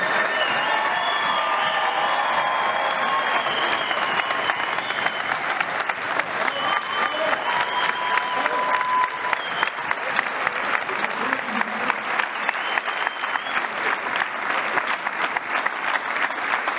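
A standing crowd applauds the team in loud, sustained clapping that gradually settles into a rhythmic, unison beat, with faint cheers and voices mixed in.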